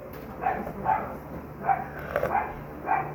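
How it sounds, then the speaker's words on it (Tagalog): A dog barks several times at a moderate distance, short spaced yelps over a steady background hum. "Ang ingay ng aso."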